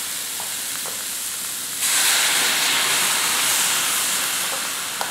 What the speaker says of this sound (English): we're going to deglaze the pan because the onions will be in here a while and they have a nice brown color, but we don't want them to burn